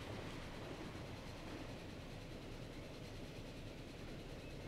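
A train in Transport Fever pulls out of a station, giving a faint, steady rumble of rolling rail wagons that stays even throughout with no speech.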